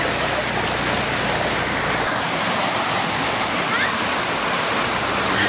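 Natural spring water at Sinungkulan pours and rushes in a loud, steady, continuous wash of noise with no pauses.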